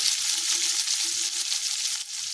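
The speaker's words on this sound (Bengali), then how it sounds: "আর এটা করছি আমি খয়রা মাছ ঘুষো চিংড়ি ভাজছি" Shrimp sizzle and crackle steadily in hot oil, a bright continuous frying hiss close by with no voices.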